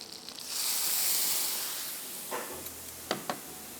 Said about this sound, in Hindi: थोड़ा सा पानी डाल रही हूँ।